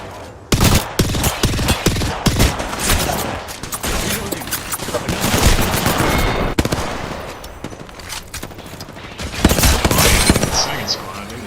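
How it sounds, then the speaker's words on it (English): Gunfire in the game Apex Legends, dense rapid bursts and single shots continuing throughout at close range, mixed with explosions and game sounds, with talk in places. "I'm under fire. Enemy firing at me."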